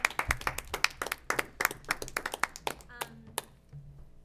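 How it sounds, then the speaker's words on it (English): Brisk group clapping at a school committee meeting, many hands together at close range with a dense rhythm, thinning out near the end as speech takes over. "I'm applauding."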